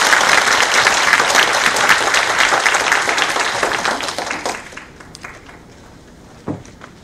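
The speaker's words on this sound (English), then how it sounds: "please, another round of big applause for Professor Morena" A seminar audience on AI in school education gives a loud, dense round of applause that thins out and fades, leaving a few scattered claps at the end.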